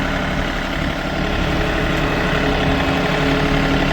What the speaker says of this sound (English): then you drive the tractor backwards